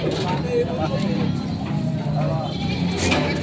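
Goats at a livestock market in Padre Garcia, Batangas, bleat intermittently amid a murmur of crowd noise and nearby talking voices, the animal calls fairly close but partly buried under the babble.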